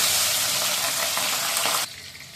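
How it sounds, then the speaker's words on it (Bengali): Fish frying in hot oil in a wok gives a loud, dense, continuous sizzle close by, dropping abruptly to a quieter hiss near the end. "এবার আমি মাছটাকে ভেজে নেব বুঝছেন"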